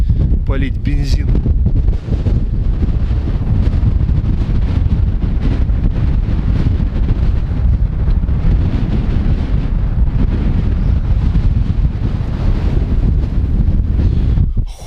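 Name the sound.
strong wild wind outdoors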